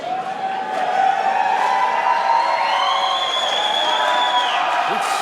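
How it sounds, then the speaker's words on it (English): A crowd at a medieval MMA bout cheers and whoops loudly and steadily, with shouts rising above the sustained roar of the arena. "Crowd giving some love to the fighters"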